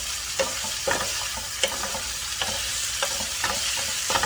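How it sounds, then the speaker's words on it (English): Rice noodles for chicken pad thai sizzle in a hot pan as they are stirred, with repeated sharp scrapes and clacks of the utensil over a steady, close frying hiss. "now we're gonna mix it in"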